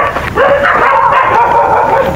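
Dogs barking and yipping along a village footpath, close and loud, a continuous run of sharp barks mixed with whining yelps and no pause between them.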